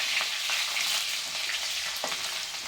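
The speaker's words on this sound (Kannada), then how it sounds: "ಅದಾದಮೇಲೆ ಕುಟ್ಟಿರುವಂತಹ ಬೆಳ್ಳುಳ್ಳಿ ಮತ್ತು ಕರಿಬೇವಿನ ಸೊಪ್ಪು ಹಾಕಿ ಸ್ವಲ್ಪ" Crushed garlic and curry leaves sauté in hot oil with a loud, continuous sizzle and a few soft stirring taps over a couple of seconds.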